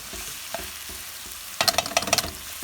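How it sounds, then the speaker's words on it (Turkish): Minced meat sizzles in a hot pan, with a soft rhythmic scraping of stirring and a sudden burst of crackling as more goes in. "Şöyle kızartmaya bir atıyorum."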